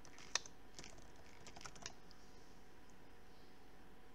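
A sticky computer keyboard clicks in a few quiet, scattered keystrokes, one sharper tap standing out near the start, over a faint steady room hiss during Italian vocabulary practice on Duolingo.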